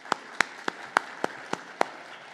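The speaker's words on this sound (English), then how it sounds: "One more round of applause for our co-chairs." Applause from a conference audience for the co-chairs, heard as about seven sharp, evenly spaced claps in a steady rhythm, close and moderately loud, with no talking.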